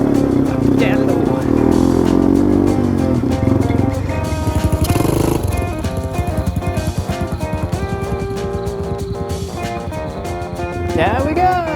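A Yamaha TW200 motorcycle crosses the Mojave Desert, its engine loud and close, a rough drone that shifts pitch as the rider drops down through gears, with the rider talking over it.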